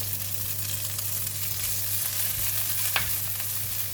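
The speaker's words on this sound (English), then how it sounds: "now we're going to fry the vegetable" Vegetables frying in a pan with garlic oil, a steady close sizzle with a low hum beneath and one brief scrape of stirring near the end.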